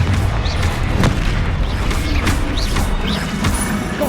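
Confringo fire spell blasts cast repeatedly in the Hogwarts Legacy game, a dense run of loud crackling bursts and rumbling impacts over constant game noise, with no one talking.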